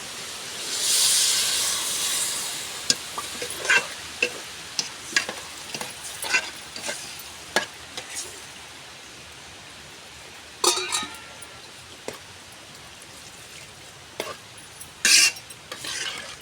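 Carrot and chana dal curry is stirred in a frying pan over a steady sizzle, with a spoon scraping and knocking against the pan in irregular strokes nearby.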